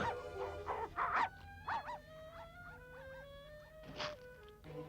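A cartoon dog from the Smurfs barks and whimpers in a string of high, tonal yips and whines with short gaps, fairly close and clear, with no speech over them.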